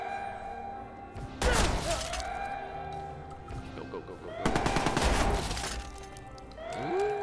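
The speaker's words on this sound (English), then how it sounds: "I like this shotgun" Shotgun blasts in the video game Watch Dogs, two heavy booming shots a few seconds apart, each with a broad crack and decaying tail, mixed with game effects and voices talking throughout.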